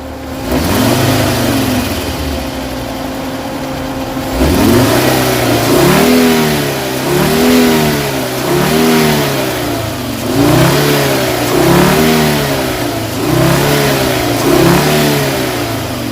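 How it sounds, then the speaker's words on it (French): The VR5 engine of a Volkswagen Passat VR5 Syncro revs again and again, its pitch rising and falling in a steady rhythm of throttle blips, loud and near. "on va écouter un petit peu le son du moteur"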